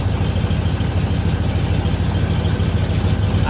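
An engine on a Honda 300 Fourtrax ATV runs or tries to start as a loud, steady, low mechanical chug with a continuous rumble. It sounds close and constant throughout, with no talk.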